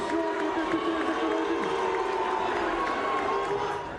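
A large crowd at a political rally gives off a dense, continuous roar of voices. The noise is loud and sustained, blending shouting and chanting without any clear pause.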